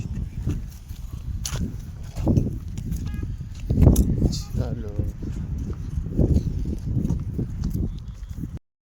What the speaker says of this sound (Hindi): मैं कुएं पर आकर के भैंसों को लेकर के जा रहा हूँ नाडी में बांधने के लिए